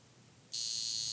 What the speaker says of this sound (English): now let's manipulate the time so that we can hear the alarm